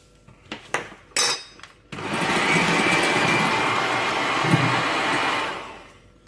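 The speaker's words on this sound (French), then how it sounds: "Après environ 5 minutes de fouet, cela a la même texture que des blancs en neige" Chickpea water whisked with an electric mixer into vegan meringue, with a couple of clattering clicks before a steady, loud, continuous motor whir that runs for about four seconds and then winds down.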